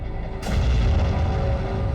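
A 5,000-pound explosive charge detonates in an outdoor test, a sudden broad roaring boom that keeps rumbling heavily for the rest of the moment without any voices.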